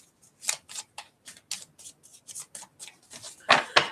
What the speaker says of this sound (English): I did shuffle the cards after doing Scorpio a little bit. I want to shuffle a little more.